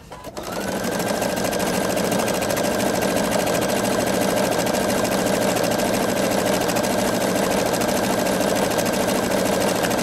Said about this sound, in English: we'll stitch this out